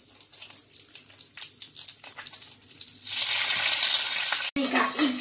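Chopped garlic and bay leaf frying in oil for rabbit escabeche: quiet kitchen clatter at first, then a loud, sustained sizzle bursts in as they hit the pan and keeps crackling up close.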